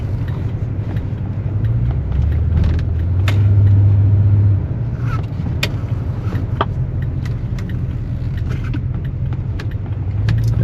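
A 1972 Cadillac Eldorado with a 500 cubic inch V8, unrestored, cruising on a test drive: a steady low engine and road rumble from inside the car, swelling briefly, with faint rattles.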